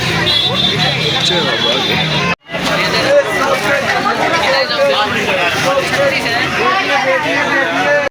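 A crowd chatters in a busy Diwali market, a loud, dense babble of many voices with a brief dropout near the start.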